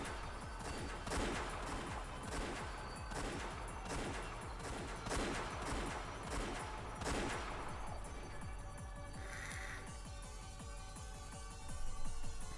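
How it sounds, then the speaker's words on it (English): Repeated gunfire from the visual novel game Umineko crackles in rapid, loud bursts of volleys for several seconds before easing off into quieter sounds. "As soon as I heard the sound of repeated gunfire"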